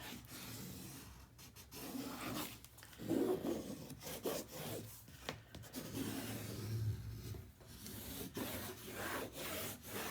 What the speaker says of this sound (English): give her a good burnish because we don't want any of this lifting